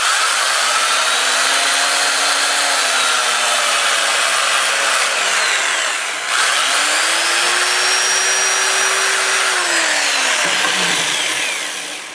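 Spanish olive wood bowl spinning on a lathe while sanded with 80 grit abrasive: a loud, steady whirring hum with rising and falling tonal whines, continuous and close, with no voices.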